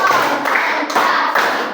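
Students clapping together in a classroom clapping routine, a few loud, near, synchronized bursts of hand claps in a steady rhythm.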